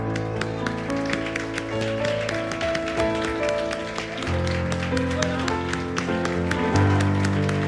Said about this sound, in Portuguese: Aleluia, um aplauso para Deus.